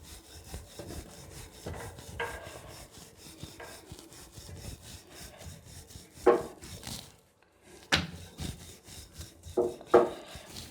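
A rolling pin works stuffed paratha dough on a board, giving repeated soft rubbing and rolling strokes in a steady rhythm, close by, with a few louder knocks and a brief pause.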